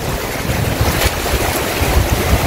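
A small fishing boat comes in at sea near a beach, heard as loud, close wind and surf rumble with rushing water and gusting microphone noise throughout.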